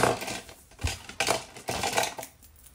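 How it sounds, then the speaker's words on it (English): Small scissors snipping a dovetail notch into the end of a paper strip for a pressed-flower craft, giving several crisp, close cuts spaced unevenly over a couple of seconds, with no voices. "with my smaller scissors"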